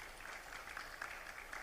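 Audience applause at an international publishers congress, a steady wash of clapping from a seated crowd, moderately faint and continuous for a short stretch with no talk over it.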